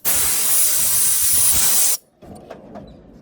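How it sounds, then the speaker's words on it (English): Compressed air from an air compressor blasts through a car's windshield washer line to clear debris, a loud steady hiss for about two seconds that cuts off abruptly, followed by faint rattles and quiet. "So you have to take your air compressor and put it on right there."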